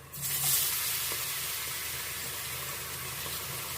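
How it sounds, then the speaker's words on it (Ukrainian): Potatoes drop into a hot pan and sizzle loudly, a steady crackling hiss that settles and continues close by, with no voices. "картоплю викладаємо на сковорідку."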